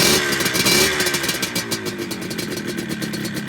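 A restored, fully rebuilt 1978 Yamaha RD250 two-stroke motorcycle engine, already warmed up, fires and revs, a loud, close, continuous rasping drone with rising and falling throttle blips throughout.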